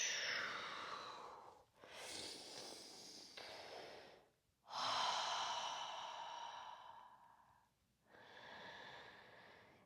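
Slow, deep breaths during a seated butterfly yoga stretch with a forward fold, each long exhale sighing out close and audible, four drawn-out breaths separated by brief pauses, with no talking.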